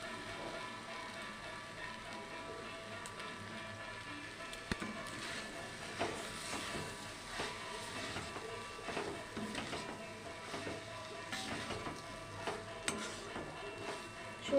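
Masala and pasta are stir-fried in a pan for chicken pasta, a soft, continuous sizzle with repeated scraping and stirring of the spatula, fairly faint and close, with no talking.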